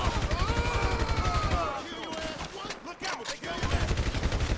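Gunfire in Grand Theft Auto 5, rapid repeated shots forming fast rhythmic bursts near and loud, broken by a short gap of scattered cracks before the rapid firing resumes, with a voice talking over it.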